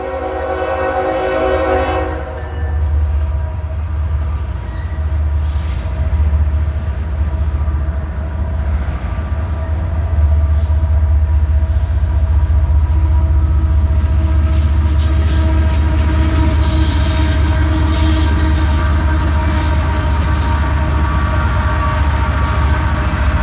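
Train E249 passes close by, with a loud sustained horn blast at the start followed by a heavy continuous rumble and the rhythmic clatter of wheels over the rails as the cars roll past.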